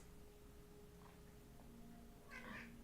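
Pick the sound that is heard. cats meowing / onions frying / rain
cats meowing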